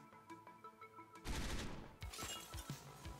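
Gunfire in Hotline Miami 2 cracks in a quick burst of several loud shots over background music, followed by a few scattered sharp reports.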